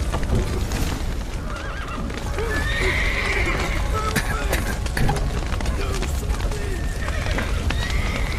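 A horse neighs loudly over a rapid clip-clop of galloping hooves, with a busy, dense mix of game sounds and a voice speaking, in The Witcher 3: Wild Hunt.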